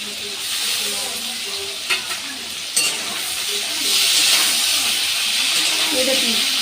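Chopped onion and slit green chillies fry in a pan, with a steady bright sizzle and hiss throughout and a few soft clinks of stirring. A louder surge of sizzling comes near the end.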